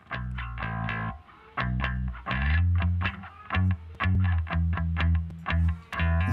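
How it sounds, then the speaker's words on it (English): A gritty, heavily distorted synth bass plays a choppy sequence of punchy notes with short gaps, loud and up front with no voices. "Some of these are really distorted and dirty."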